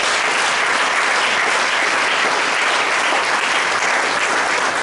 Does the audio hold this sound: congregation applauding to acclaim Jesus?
yes